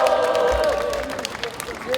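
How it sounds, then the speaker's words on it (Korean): An outdoor candlelight rally crowd in Gwangju applauds with steady clapping under a murmur of voices and a sustained tonal hum. "다시 한번 우리 청소년 희망 식구들에게 뜨거운 박수 부탁드립니다."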